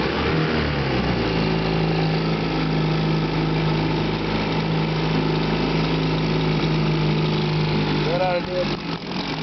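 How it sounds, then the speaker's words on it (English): A 1958 Johnson 3 hp outboard motor runs steadily at a fast, buzzing idle, loud and close, with a brief rev near the end and someone speaking a few words over it. "That's firing."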